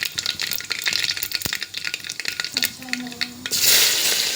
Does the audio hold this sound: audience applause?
no